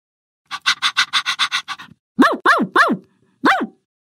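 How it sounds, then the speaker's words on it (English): A dog lets out a quick run of about eight short, sharp barks, then after a pause gives four louder, deeper barks spaced apart. It is close and clear, with silence around it. "Dog, dog."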